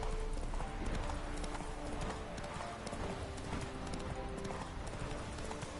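Galloping horse hooves in The Witcher 3, a steady rapid clip-clop rhythm running continuously and fairly loud, with game music or ambience underneath and a faint whinny blended in.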